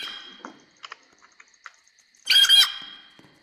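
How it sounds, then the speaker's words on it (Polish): Faint scattered clicks and tiny chirps, then a sudden burst of shrill, high mouse squeaking about a second long that trails off, in a Roblox game. "To za dziwne dźwięki tych myszy."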